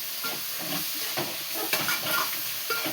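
Tomatoes land in a pan of softened sautéed onions, producing a bright hissing sizzle with soft stirring scrapes at intervals, close and moderately loud, with no speech.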